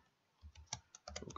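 Keys tapped on a computer keyboard while writing a comment in Excel VBA code, a quiet, irregular patter of several soft clicks in short bursts with no voice.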